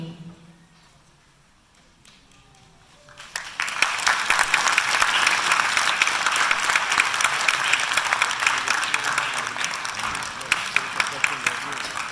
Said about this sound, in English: I think we could do one round of applause.